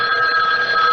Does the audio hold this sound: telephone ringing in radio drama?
yes